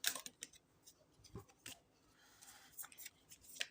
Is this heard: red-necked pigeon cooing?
no